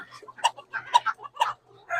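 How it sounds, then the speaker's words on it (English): Riled-up chickens and a rooster cluck and squawk in short, agitated bursts at close range, several calls overlapping in an uneven rhythm. "you rile up one chicken and they all get riled up and crazy"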